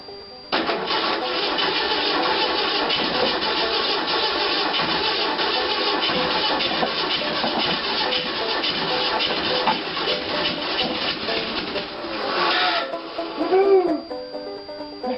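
A 1975 Volkswagen engine cranks on a cold start for about twelve seconds in a loud, continuous, rapid churning drone that never quite catches, then trails off into a few uneven sputters.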